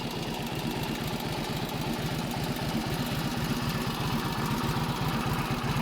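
A 1948 Indian Chief motorcycle idling just after a cold start, its engine a steady, loping low thump with even, rapid firing pulses, close and continuous with no voices.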